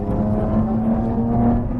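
A Lotus Evora 400 with a supercharged Toyota Camry-derived engine droning steadily from inside the cabin, a loud continuous low engine and exhaust note with a constant whine and no talk.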